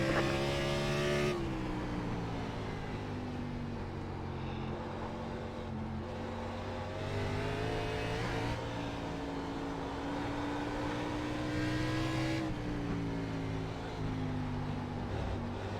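Race cars circle the Charlotte Roval in the iRacing sim, with a close engine holding a sustained tone that rises and falls through gear changes and throttle, plus a whoosh as other cars close in and pass, without any voices.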